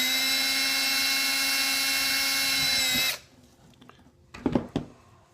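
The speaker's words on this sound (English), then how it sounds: "I think we'll drill a little hole." Power drill whines steadily for about three seconds while boring a small hole for a homemade fishing line unwinder, then stops abruptly, followed by a few short knocks and handling noises.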